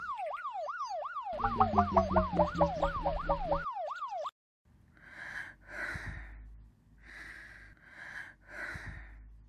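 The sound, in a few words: police siren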